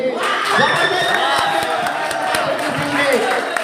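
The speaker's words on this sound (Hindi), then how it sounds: "जोरदार तालियां दें प्रदीप सिंह के लिए" A crowd at a village table tennis competition roars for player Pradeep Singh, with loud, continuous cheering, whoops and shouting voices and a few scattered claps throughout.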